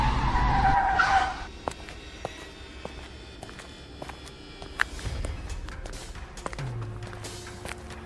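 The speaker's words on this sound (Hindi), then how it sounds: "ब्रेक की आवाज जंगल में गूंजती है" A truck skids and screeches to a halt on a lonely forest road, a loud tire-and-brake squeal in the first second that cuts off into quiet, followed by scattered faint clicks, thumps and footstep-like sounds.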